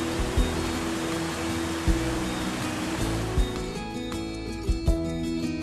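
A waterfall pours down near Sanjeong Lake in Pocheon, giving a continuous, dense rush of falling water, with a low hum and occasional soft thumps beneath it; no voices are heard.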